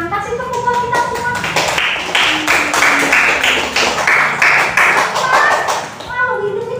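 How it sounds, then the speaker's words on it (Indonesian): Clapping in a school classroom, a burst of many hands clapping together loudly and unevenly between stretches of a teacher's talk, which frames the sound on either side. "Kasih tepuk buat kita semua."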